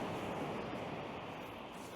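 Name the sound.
rough sea waves splashing against a high sea wall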